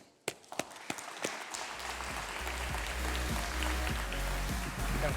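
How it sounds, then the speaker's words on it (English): A conference audience at a fintech event greets a panel of CEOs, starting with a few sharp, separate claps that swell into sustained, full applause. "Please give them a big round of applause"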